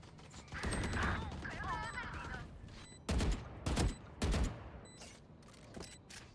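Bursts of Valorant gunfire crack in short volleys, with a few sharp shots spaced near the end and faint electronic sounds between them.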